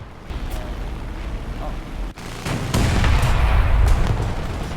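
Tank in the War Thunder video game being hit repeatedly by incoming shots: a run of heavy booms and impacts over steady rumbling battle noise, growing louder toward the end, with a person talking over it.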